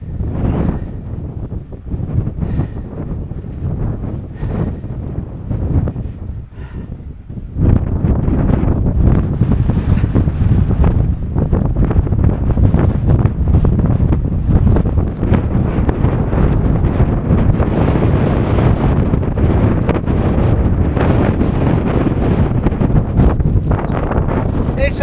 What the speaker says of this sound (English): It's a bit windy and rainy.